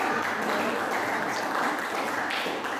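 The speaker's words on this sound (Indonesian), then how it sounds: "Oke, kita berikan aplaus kepada kelompok 5." Classroom applause for a student group, a steady wash of many hands clapping close by, even and continuous throughout.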